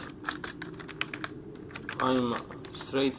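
Rapid clicking keystrokes on a computer keyboard, typed in irregular bursts close to the microphone, with a voice speaking briefly over the typing at moments.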